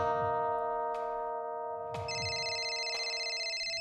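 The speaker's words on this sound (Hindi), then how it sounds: "600 किलोमीटर दूर इंदौर शहर में उसके मोबाइल की रिंग बजी" A mobile phone rings in a middle-class housing society home in Indore, its melodic electronic ringtone repeating in bright, evenly spaced chimes, clear and alone with no voices.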